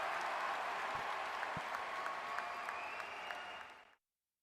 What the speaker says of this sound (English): we can give him a round of applause.